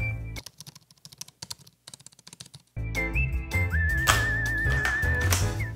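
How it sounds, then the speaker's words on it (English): Typing on the keyboard of an ASUS ProArt PX13 convertible laptop: soft, quiet key clicks in quick bursts, first nearly alone, then continuing under a louder background with a whistling tone. "if you're someone who cares about the typing experience, it's nice and quiet."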